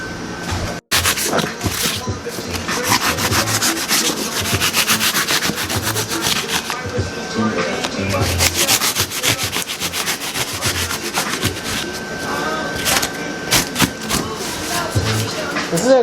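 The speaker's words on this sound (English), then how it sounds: "I'll be able to sand it down more and cut out more" Expanding foam on a DIY front bumper for a 370z body kit is sanded by hand, a loud continuous rasping scrape of steady back-and-forth strokes close up.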